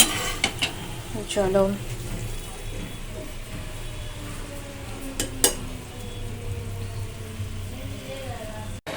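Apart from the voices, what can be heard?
frying lentil fritters (bora) to make rasbora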